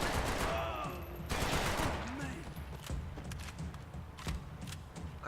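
Sustained AK rifle fire rattles through a firefight in the game Max Payne 3, with dense automatic bursts under overlapping voices and a constant loud battle din.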